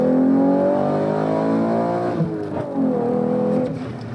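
A Chevy Camaro RS with a V6 revs hard under acceleration, its engine note climbing steadily in pitch, then dipping briefly at a shift around two seconds before pulling upward again, loud and close from inside the car.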